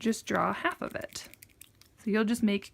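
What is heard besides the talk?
None of the usual background noises is heard.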